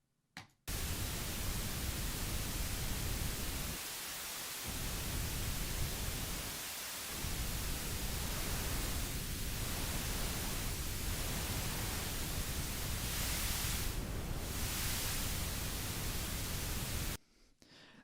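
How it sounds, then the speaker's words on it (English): Steady pink noise test signal fed through a Faust physical model, a broad even hiss lasting about sixteen seconds with two brief dips, starting and stopping abruptly. "I'll go ahead and demonstrate just using some pink noise"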